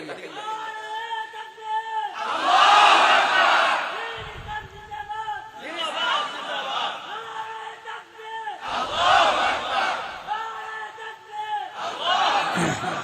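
A crowd at a Bangla religious sermon gathering in Netrokona shouts the Nara-e Takbir slogan in loud group bursts, repeated about four times with a single voice leading between them.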